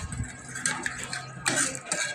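A metal utensil stirs turmeric into idli batter in a vessel, with soft scraping and light clinks against the pot that rise in a few brief bursts, close and fairly quiet, with no speech.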